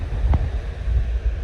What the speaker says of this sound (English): And just to show the wind